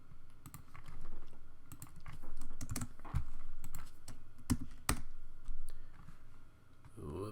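Quick bursts of computer keyboard typing while coding in Python, close and crisp clicks with short pauses between runs of keys.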